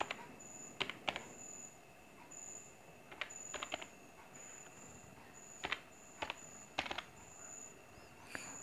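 Scattered keyboard taps while a phone number is entered, as isolated clicks and short clusters spaced over several seconds, faint and close against quiet room noise.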